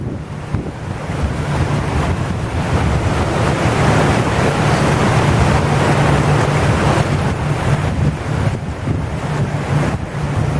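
Choppy water slaps against the hull of a small boat under constant, loud wind buffeting the microphone, with a continuous rushing wash of waves and no speech.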